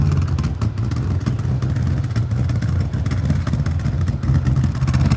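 A BMW E36 engine revs steadily and loudly, with a throaty, tuned-sounding note as if fitted with performance camshafts; the sound is continuous and close with no talking.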